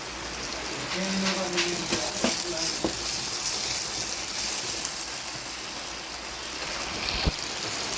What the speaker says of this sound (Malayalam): ഉള്ളി ഇട്ട് ഒരു മിനിറ്റ് ആകുമ്പോഴത്തേക്കും ഞാൻ ഈ പച്ചമുളകും കൂടി ഇട്ട് കൊടുക്കുന്നുണ്ട്